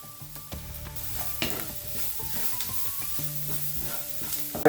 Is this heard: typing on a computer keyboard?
no